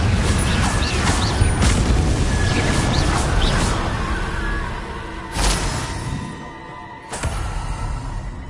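A Confringo blasting spell goes off in a PS4 game as a loud, broad explosive rumble that fills the first seconds and slowly fades, followed by a few sharper bursts.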